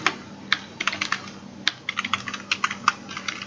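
Close, quiet typing on a computer keyboard as code commands are entered, sounding as irregular bursts of crisp key clicks with short pauses between them and no talking.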